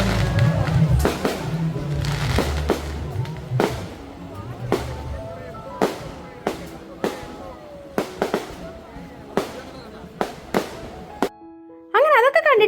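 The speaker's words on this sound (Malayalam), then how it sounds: "ആകാശത്ത് കണ്ട് അടിപൊളി പടക്കമൊക്കെ പൊട്ടിച്ച്." Fireworks bursting in the sky at a temple festival in Kerala, a string of sharp booming cracks spaced a second or so apart, some close and loud, with a low rumble and a brief bit of other sound at the end.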